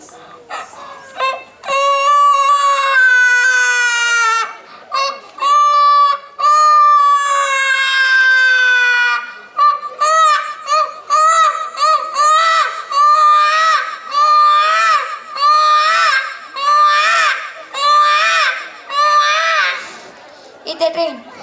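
A voice imitates a crying baby on stage at a cultural event, with repeated wailing bursts rising and breaking off, loud and close, with short pauses between cries.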